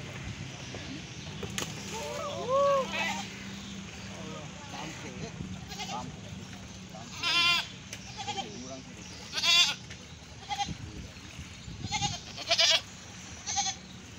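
Two goats bleat in repeated quavering calls, several loud close bursts spaced across the scene, with people talking in between over a low outdoor rumble.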